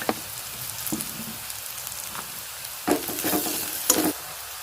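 Turmeric and chili powder frying in oil in a pan for pasta, a steady close sizzle with bursts of louder crackling as more oil hits the hot pan.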